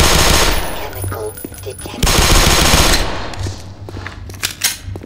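Rapid automatic gunfire from weapons in the PC game Black Mesa rattles in loud bursts, with game voices and effects mixed in between volleys.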